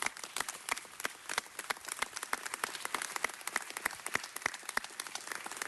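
Applause from the audience at a city council meeting, with dense, irregular claps crackling steadily throughout at moderate loudness, no voices over it.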